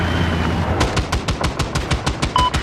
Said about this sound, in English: East of your location, there is an enemy machine gun.